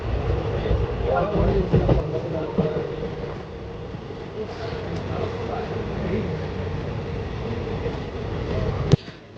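A train on the NJP to Kolkata route runs steadily on rails at moderate speed, a continuous low rumble and rattle heard from inside the carriage, with a sharp click near the end.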